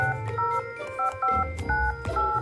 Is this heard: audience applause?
no